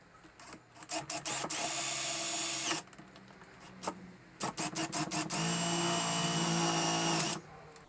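A power drill driving wood screws into the wooden handle of a hybrid Makita and Black and Decker cordless chainsaw: several short trigger blips, then a sustained whining run, then another set of blips and a longer run, close and clear.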